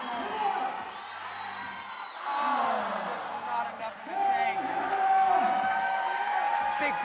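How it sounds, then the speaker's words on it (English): At an indoor climbing competition final, the crowd's cheering and whooping swells in waves, rising partway through. Commentators keep talking over it. "The crowd is getting loud."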